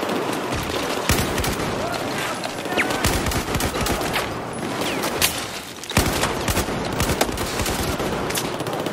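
Battlefield 4 campaign gunfire on the Shanghai level: rapid bursts of automatic weapons and sharp single shots crackle densely and loudly throughout, with scattered voices talking underneath.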